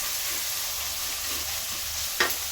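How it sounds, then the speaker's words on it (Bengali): Corn kernels being stirred in a frying pan, a steady soft sizzle with one brief scrape of the spoon near the end, close and continuous with no talking. "নেড়ে দিলাম।"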